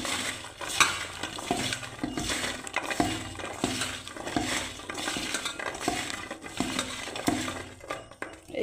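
Sliced okra is tossed and mixed with rice powder and gram flour in a bowl, giving repeated soft stirring scrapes and light clinks at a steady rhythm, close and with no voices.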